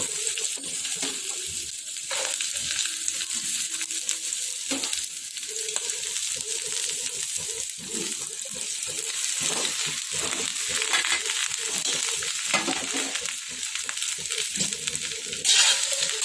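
Cut okra (ladies finger) sizzles and fries steadily in hot oil with green chillies in a pan, a continuous crackling hiss with occasional stirring scrapes throughout, close and alone with no talk.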